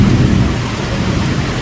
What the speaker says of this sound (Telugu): టూ మచ్ అంటే టూ మచ్ వాన పడుతుంది